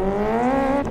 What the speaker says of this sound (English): Nice little wheelie off the line there.